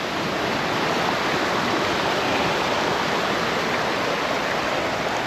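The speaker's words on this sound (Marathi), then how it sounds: "हा त्याचा सवत्साडा धबधबा तो तुमच्यावरून पडणारं पाणी शेवटीला खाली असं येऊन मिळतं" Savatsada waterfall near Chiplun, falling water crashing down in a loud, unbroken roar that fills the air evenly from start to finish with no other sounds.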